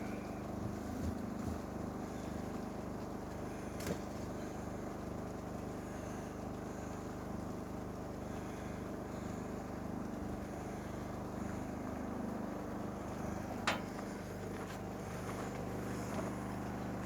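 A generator engine runs at a worksite, a steady, unbroken mechanical drone that holds at an even level throughout, with no speech over it.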